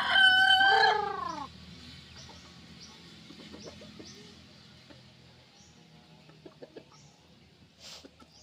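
A rooster crows loudly once at the start, then a few chickens cluck softly and intermittently in the background, with scattered faint farmyard sounds.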